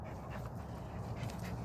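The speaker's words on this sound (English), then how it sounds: "But man, I want this Patterdale" A Patterdale terrier pants quickly and steadily close by, a faint breathy rhythm under low background noise.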